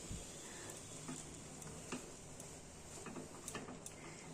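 Chopped cabbage sizzles steadily in a hot wok while being stirred, with a dense continuous frying hiss broken by soft scraping clicks of the spatula, fairly close and with no talking.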